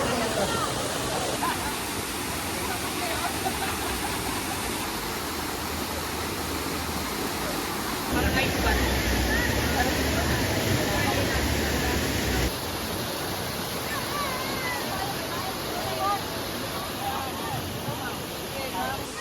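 A waterfall on Samal Island roars as a steady, loud wash of rushing water, constant throughout, with people talking faintly beneath it.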